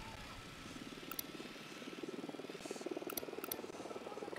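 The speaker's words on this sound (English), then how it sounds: "Drone is airborne." Drone lifting off in Ghost Recon Wildlands, a faint, steady buzzing hum with rapid rotor pulsing that stays low and distant under background game ambience, with a few sharp clicks.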